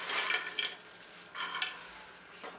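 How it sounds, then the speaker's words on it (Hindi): Bread pieces are stirred and tossed in a dry non-stick pan, giving brief scraping, rustling bursts with short pauses between them, close and fairly soft. "अब हम सूखे नॉन स्टिक पैन में इनको सेकेंगे अच्छे से।"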